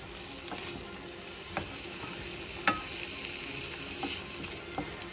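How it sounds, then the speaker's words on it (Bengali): Garlic and onion fry in oil, giving a soft steady sizzle broken by a few sharp clicks and scrapes of stirring. "তেল দিছি, তেলের মধ্যে রসুন পেঁয়াজ দিয়ে ভাজতে হবে।"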